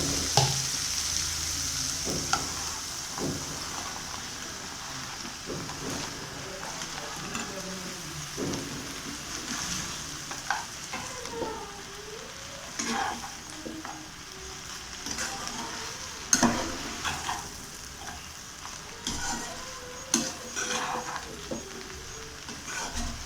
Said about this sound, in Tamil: இந்த மசாலாவில் ஃபுல்லாக பிரட்டி எடுத்துக்கலாம்